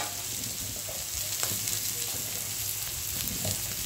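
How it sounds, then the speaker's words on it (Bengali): Chopped garlic frying in a pan, a steady close sizzle with soft stirring scrapes and a few light clicks of a utensil, no voices. "ভালো করে নেড়ে চেড়ে নেব, ভেজে নেব, সুন্দর করে ভাজবো।"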